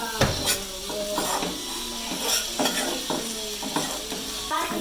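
Grated coconut roasts in a pan for a tapioca theeyal, stirred with a spoon that scrapes and knocks against the metal in steady repeated strokes over a soft continuous sizzle, close and moderately loud, with no talking.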